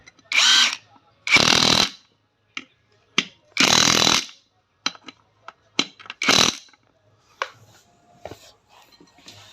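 Metal tools work the engine nuts of a TVS XL 100 moped as they are tightened, in short loud bursts and clicks with gaps between them, close by.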